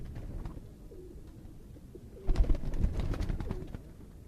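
Pigeons coo softly on a Lahore rooftop, a few low repeated coos with rustling and flutter picking up midway, fairly close and without speech.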